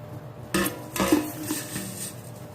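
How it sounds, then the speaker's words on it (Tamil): Roasted millet being measured out with a metal tumbler, giving a couple of close clinks and scraping knocks of metal on metal in a quiet kitchen. "இந்த டம்ளரில் 2 டம்ளர் எடுத்துக்கிறேன்."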